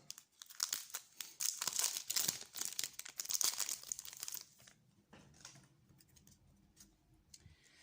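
A foil booster pack of Yu-Gi-Oh Toon Chaos trading cards torn open and crinkled, with loud close crackling and ripping for about four seconds, then quieter soft rustles and card handling.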